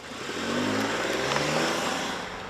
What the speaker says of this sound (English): Trax will do the 0 to 60 dash in just under 9 seconds